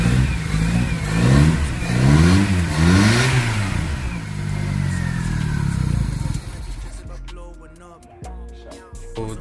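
Car engine after a spark plug repair, where it had earlier been misfiring, revs up and down in loud surging waves, then drops back to a steadier, lower idle near the end.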